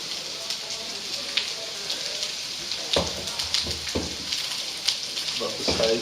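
Chopped onions sizzle and crackle in a hot pan, a steady fine hiss with scattered louder pops, close by, while a person talks over it.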